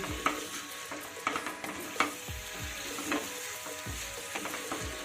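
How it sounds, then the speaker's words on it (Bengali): Spices stir-fry on medium gas heat for a fish-head muri ghonto with gobindobhog rice, a soft steady sizzle punctuated by several sharp spatula knocks and scrapes against the pan, close but fairly quiet. "অবশ্যই গ্যাসের হিটটা মিডিয়ামে রেখে তবে সবটা কষাতে হবে নচেত কিন্তু নিচে লেগে যাওয়ার ভয় থাকবে"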